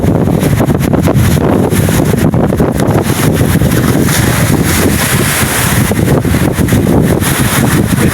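Strong typhoon wind roars and buffets the microphone in heavy, continuous gusts over churning, closely packed waves, loud and unbroken, with no talk.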